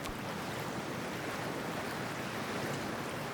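A character wades into freezing water in Cyberpunk 2077: a steady, dense wash of splashing and surf-like noise fills the whole stretch evenly, with no pauses or distinct individual splashes.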